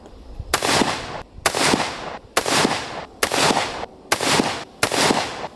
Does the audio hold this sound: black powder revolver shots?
yes